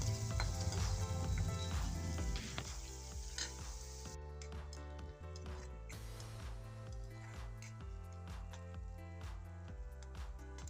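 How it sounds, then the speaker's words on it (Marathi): Chopped onion sizzling and frying in hot oil for a Goan sole fish red curry, a steady close sizzle throughout with occasional stirring scrapes, no talking. "कांदो आसा ते फोडणीत घातला हांवें आनी मातशे तांबडे मातशे जायसर हो कांदो भाजून घेवया"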